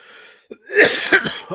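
A single harsh cough with some throat clearing, close and loud, during a casual podcast recording.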